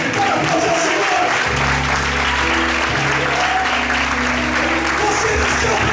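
Loud, steady applause from a large crowd at a church service fills the whole stretch, with a sustained musical tone joining underneath partway through.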